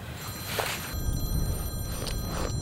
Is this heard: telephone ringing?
yes